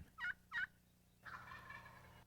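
Wild turkey gobbling, with two short calls followed by a longer rolling gobble, fairly faint and heard alone.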